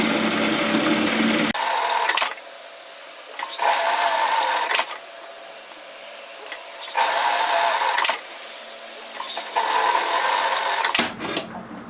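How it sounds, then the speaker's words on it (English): Sewing machine stitching down the edges of a hand opening on a hoodie capelet, four loud sustained runs of rapid stitching separated by pauses, close to the microphone. "so what we're going to do is stitch down just like we did before, or of course you could use a twin needle or a cover seamer"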